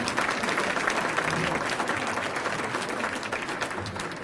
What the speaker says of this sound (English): Let's have a big round of applause for Dr. Joe Walsh, please.